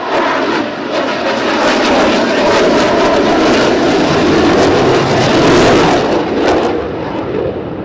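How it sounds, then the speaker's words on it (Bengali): A loud, sustained jet engine roar swelling and fading as a MiG-29 with RD-33 engines banks past in an afterburner turn at an air show flypast, with a brief surge near the end. "আফটার বার্নার টার্নের মাধ্যমে আপনারা দেখতে পাচ্ছেন শক্তিশালী ছুটি RD-33 ইঞ্জিনের সর্বোচ্চ শক্তি ব্যবহার করে"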